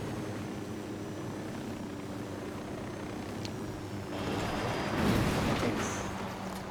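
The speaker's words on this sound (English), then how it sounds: "I'm surprised that helicopter didn't take any serious damage." A helicopter's rotor drone hums steadily in Ghost Recon Wildlands, swelling louder toward the end with a burst of rushing noise.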